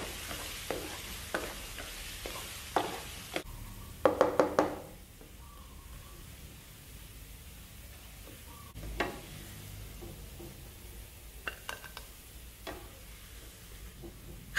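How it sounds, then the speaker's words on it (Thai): Garlic fries in oil in a pan for stir-fried vegetables with oyster sauce and shrimp: a faint, close sizzle with scattered clicks and a quick burst of metallic taps from a utensil, then quieter bubbling, no talking. "เสร็จแล้วก็เราก็มาเติมน้ำมันนะครับเสร็จแล้วเราใส่กระเทียมนะครับ"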